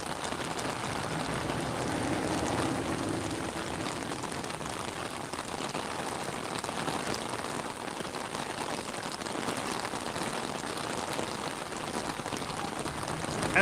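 Steady rain falls at EPCOT, a dense even patter on surfaces that holds at the same level throughout with no talking.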